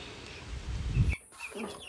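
Soft hen clucks and low murmuring calls from nearby fowl over a steady background hiss, quieting abruptly partway through.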